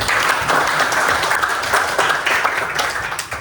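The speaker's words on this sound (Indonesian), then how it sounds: "Kita beri aplaus dulu." A class of students applauds in a classroom after a prayer: steady, dense clapping from many hands, fairly loud and close, lasting the whole stretch with no voices over it.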